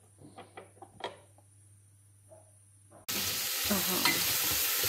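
Clarified butter hitting a hot pan to make a brown and white champignon mushroom soup: quiet light clatter, then a sudden loud, steady sizzle of frying that continues to the end.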